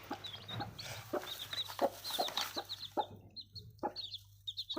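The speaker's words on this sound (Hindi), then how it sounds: "खूबसूरत प्यारी सी 5 बच्चे हमारे मुर्गी ने निकाल लिया।" A mother hen clucks among her five baby chicks, with short repeated clucks mixed with high, thin chick peeps, close by and busy, no voices.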